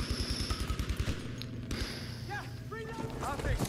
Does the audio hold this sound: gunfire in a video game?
yes